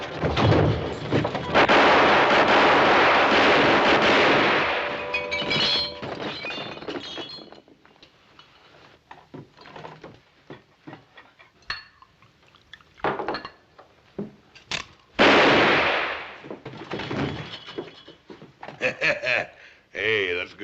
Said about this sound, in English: Hey, that's good shooting